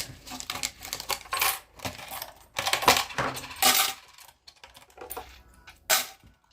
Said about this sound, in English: Gonna take the coins out, chuck them in there